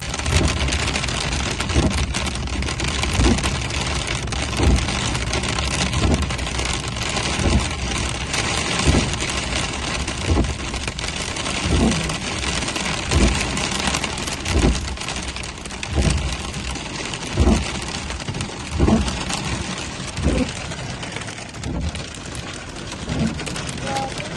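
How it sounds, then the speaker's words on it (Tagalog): A strong hailstorm pelts a car on the road, a dense, continuous patter and rattle of ice on the body, with engine rumble underneath and a person talking over it. "naabutan kami ng hailstorm sa daan. Napakalakas na hailstorm."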